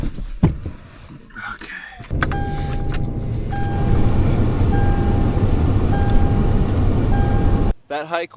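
A car engine idles as the heater fan blasts at full power, a loud, steady whooshing roar with a faint whine that starts about two seconds in and runs nearly to the end; someone talks briefly near the start.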